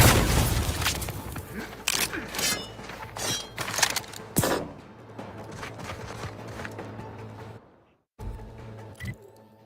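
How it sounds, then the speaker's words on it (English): A grenade goes off in The Outer Worlds 2 amid a string of sharp booms and crackling bursts. One heavy blast stands out midway, then the noise falls nearly silent before a few last pops. "Grenade, away!"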